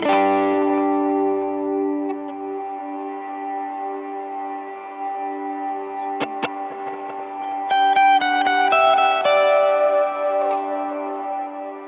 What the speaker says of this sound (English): I also have a latch for the reverb